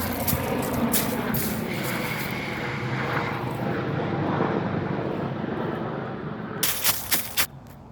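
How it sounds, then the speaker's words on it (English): A loud, steady engine roar drones overhead for several seconds, followed by a few sharp thumps near the end. "And here come the helicopters."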